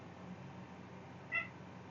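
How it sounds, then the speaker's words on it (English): A pet cat gives a single short, faint meow over quiet room hiss. "I would lean over to my cat so that you guys could hear her"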